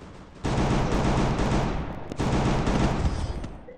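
Dense bursts of rapid video game gunfire, loud and continuous, breaking off briefly midway before resuming just as heavily.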